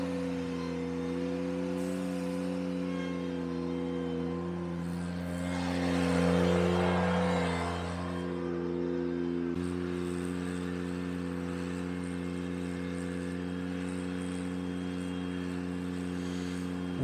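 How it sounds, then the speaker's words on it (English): A Ventrac power rake driving back and forth over a gravel driveway, its engine a steady droning hum that swells briefly midway as it draws nearer, then settles back to an even drone. "they did a good job of capturing the Ventrac just going back and forth"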